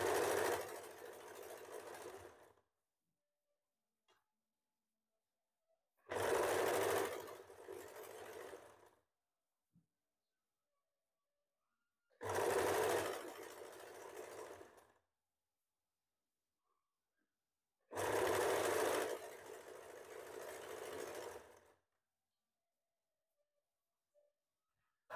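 An electric sewing machine stitches a hem on a garment in four separate runs, each about three seconds of fast, steady whirring and needle clatter, with near silence between them.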